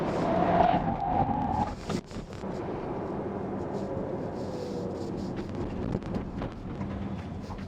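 A Volkswagen ID.4 with rear drum brakes brakes hard on a test track. Tires screech briefly up front, then the car rolls on with a low road and wind rumble. No one speaks.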